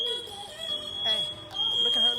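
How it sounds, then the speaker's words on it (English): Kitchen smoke alarm sounding a piercing continuous high tone that cuts out briefly and resumes, with people talking over it. "You keep setting the alarm off."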